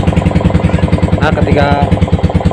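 A Yamaha Vixion motorcycle idles with a rapid, pulsing, uneven engine beat, then lurches and cuts out as it is shifted into first gear with the clutch pulled, heard close and loud.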